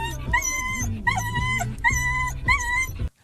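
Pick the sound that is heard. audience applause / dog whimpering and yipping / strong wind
dog whimpering and yipping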